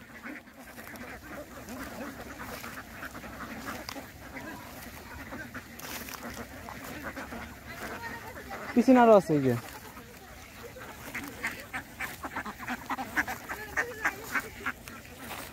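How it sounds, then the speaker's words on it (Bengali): Many ducks at a duck farm quack and honk in a loose, ongoing chorus at moderate distance, with a louder burst of calls midway, while people talk over the flock throughout. "কত হাঁস!"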